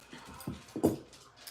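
A dog whimpers and pants softly in a few short, quiet bursts close by, in a quiet room during sewing.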